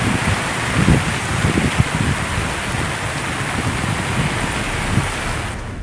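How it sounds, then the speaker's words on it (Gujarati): A waterfall in the Panchmahal area roars with a steady, broad rushing wash of falling water, loud and continuous, with low rumbling surges early on. "આ ધોધ ફરી એકવાર શરૂ થયો છે."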